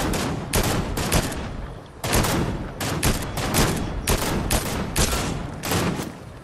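Rapid gunfire in the Fortnite video game, with dense, overlapping bursts of shots crackling almost continuously and loudly across the whole stretch.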